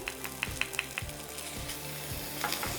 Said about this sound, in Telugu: మరి ఇక్కడ ఉల్లిపాయ వేగిపోతుంది.